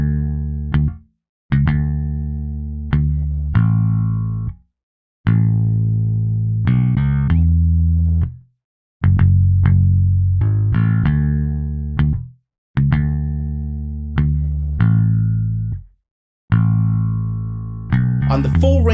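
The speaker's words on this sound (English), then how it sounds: "Here is the bass line clean." An unprocessed clean electric bass line plays a series of sustained, round low notes and short phrases with brief gaps of silence between them, loud and close with no voices over it.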